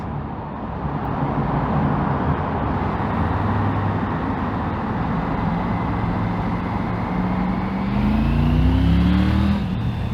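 A Triumph Tiger 900 Rally Pro motorcycle engine drones steadily while riding, with wind rush and a rising pitch as it accelerates near the end.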